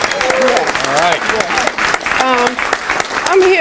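An audience gives a standing ovation at a legislative listening session, with loud sustained clapping throughout while a speaker keeps talking over it.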